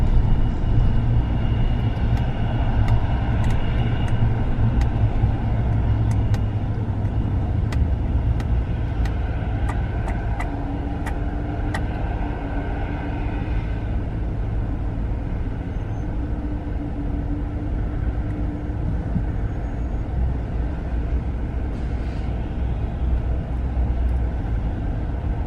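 A car driving on a road during a commute, with a steady low rumble of engine and tyre noise that stays constant from inside the vehicle, a few faint clicks and ticks above it, and no talking.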